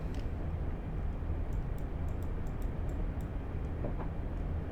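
A train runs along the Isle of Wight Island Line in Train Sim World, a steady low rumble with rhythmic rolling underneath and faint clicking ticks above, no talking.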